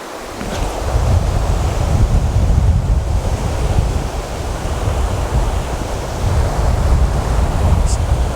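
Rushing white water of a Georgia trout stream pours steadily and loudly past a fly fisherman, a continuous close roar without talk.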